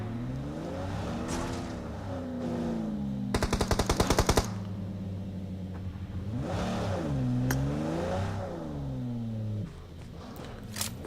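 Rapid automatic gunfire in PUBG Mobile rattles in a dense burst lasting about a second, set among vehicle engine revving that rises and falls through the scene.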